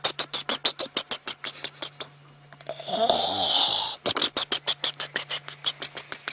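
A human voice imitates an animal exhaling into mud with flapping lips: a rapid run of rhythmic puffing pulses, then a longer bubbly, wheezing blow, then the pulsing resumes, close and fairly quiet.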